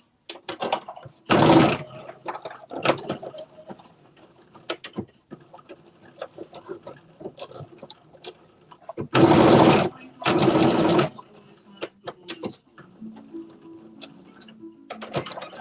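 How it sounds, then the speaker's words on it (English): Sewing machine stitching across a garment seam for a Simplicity S9463 pattern, heard in two loud bursts of a few seconds each, with quieter clicks and handling noise around them and no talk. "now we're going to press this across. I'm sorry, stitch it across"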